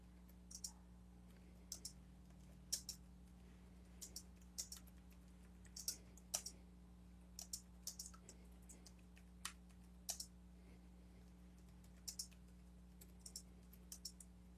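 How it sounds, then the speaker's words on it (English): Typing on a computer keyboard, with irregular bursts of close, crisp key clicks over a steady low electrical hum and no voices. "You see what I'm typing?"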